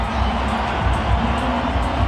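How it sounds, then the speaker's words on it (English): Dense, steady roar of a stadium crowd at an India vs Sri Lanka T20 cricket match, broad and continuous, with slight swells of cheering throughout. "The crowd's happy and about again."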